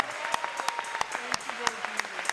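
Church congregation clapping together in a steady rhythmic beat, with sharp regular claps over a sung or spoken voice carrying along underneath.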